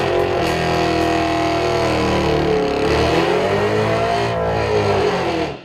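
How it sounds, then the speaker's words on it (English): A nitrous-equipped muscle truck roars loud and close through a drag pass, its engine note climbing steadily and holding full throttle before cutting off at the end. "finally our very first nitrous pass"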